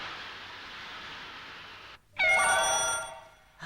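A telephone rings indoors on a very windy day in a cartoon setting: a steady whoosh of wind gives way to a loud, bright electronic ringing tone that sounds alone for over a second before fading.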